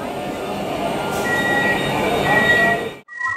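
Interior of an air-conditioned local train in Kolkata, with a steady rumbling ride, faint high squeals from the wheels, and a brief dip in the sound near the end.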